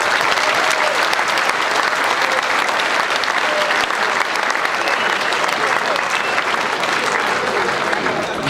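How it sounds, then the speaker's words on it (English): A dinner crowd at a Gateshead function suite gives the kitchen staff a round of applause after the meal, dense steady clapping lasting throughout with no voices over it. "I think a round of applause should be given to the kitchen staff for that wonderful meal."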